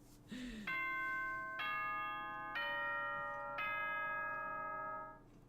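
A doorbell-style ding-dong chime from the Danganronpa video game rings out in four clear, evenly spaced bell tones that sustain and ring on, loud and alone.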